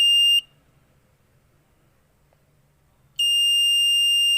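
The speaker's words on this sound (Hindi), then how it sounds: "देन उनके बाद बजर बज रहा है, मैंने हटा लिया." A buzzer on a light-sensor robotics alarm built from Cretile modules sounds a loud steady electronic tone, briefly at the start, then stops for nearly three seconds and starts again near the end, with no talk.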